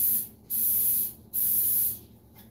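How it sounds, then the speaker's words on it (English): Cooking spray is aimed at a pan in three sharp, hissing bursts of about half a second each, set close and loud with short pauses between them. "And we're going to use cooking spray,"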